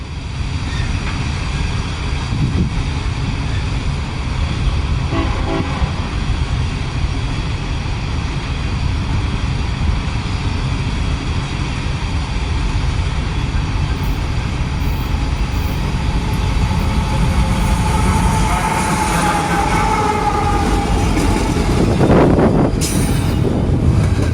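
A long, heavy coal train rumbles steadily past on the rails in Northeast Ohio, loud and close, with clanking cars and rising metallic wheel squeal toward the end.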